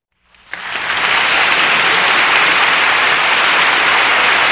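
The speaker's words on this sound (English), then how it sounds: "Give yourself a hand clap today." A Bible study group gives itself a round of hand-clapping applause, swelling in over the first second into loud, sustained, dense clapping that holds steady to the end.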